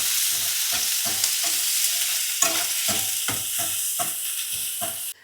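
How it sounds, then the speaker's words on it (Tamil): Onions and dried red chillies fry in a pan with a steady broadband sizzle, stirred in about ten regular scraping strokes close by, with no voices. "வெங்காயம் நல்லா வதங்கிடுச்சுங்க."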